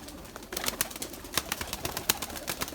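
Erzurum white pigeon chicks in a loft give soft, irregular cooing and shuffling sounds, close by and moderately loud, in a short stretch with no talking.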